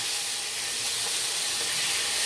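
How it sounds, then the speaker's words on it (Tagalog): Pork sautéing in a pan for Filipino pinakbet gives a loud, continuous bright sizzle and hiss that stays steady from start to finish. "Igisa mo lang maigi yung pork hanggang mag-golden brown."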